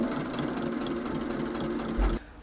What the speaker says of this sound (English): Now I'm going to sew right on the crease or just a smidge outside the crease, just about a needle width, to attach the waistband to the skirt.